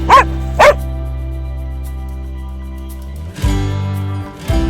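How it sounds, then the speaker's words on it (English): Scone, a slow-moving pet dog, lets out two sharp barks in quick succession while playing hard outdoors, followed by a low steady hum and then a couple of louder rough bursts toward the end. "if he is barking, that's playing for Scone"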